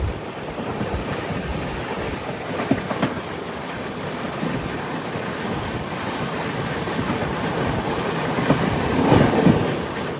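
Rumbling rail noise from a passenger train, the South Bihar Express, running through a crossover as another train passes, a steady broadband roar with faint clanks, no speech.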